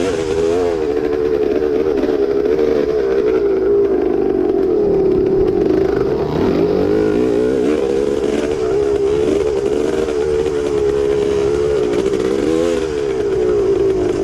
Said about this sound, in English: Just from the sounds of that motor, I don't think I've lost my inner muffler yet.